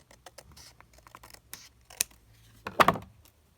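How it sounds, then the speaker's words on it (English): Scissors snip and trim excess paper for handmade card making, a run of close, crisp cuts ending in a louder cluster of snips near the end. "Right, I'm just going to trim that bit off. Get my scissors."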